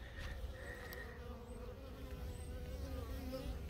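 Honey bees in an opened beehive hold a steady, dense buzz with shifting tones, close and continuous, while a few individual bees whine past.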